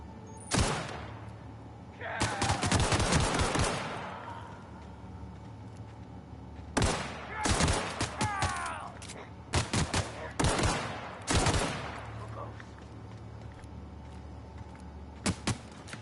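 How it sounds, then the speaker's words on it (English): Gunfire in the video game The Outer Worlds: bursts of rapid automatic fire and a few single shots come in clusters with pauses between, loud and close, over a steady game background hum. "Who's shooting me?"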